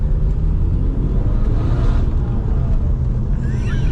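A remapped, straight-piped VW Golf GT TDI diesel drones loudly and steadily while driving, with a constant deep rumble throughout and some wind noise, and no talking.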